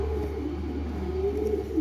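A male pigeon coos softly in a low, drawn-out murmur over a quiet, steady background hum, with no talking.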